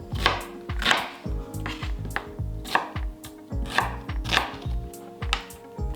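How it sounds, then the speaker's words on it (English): A kitchen knife chops onions on a cutting board in a quick, steady rhythm of sharp taps, close and clear with no talking. "Let's cut our onions."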